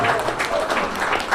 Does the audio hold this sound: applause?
yes